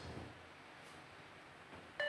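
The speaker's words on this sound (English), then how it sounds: "Keep with the beeps." A single short electronic beep from a fitness bleep test sounds near the end, clear and sharp over a quiet room hiss.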